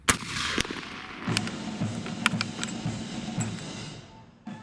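A Mk III Snider-Enfield rifle fires at a 100-yard range, giving a few sharp, loud reports spaced well apart, with quieter mechanical sounds and low tones between them.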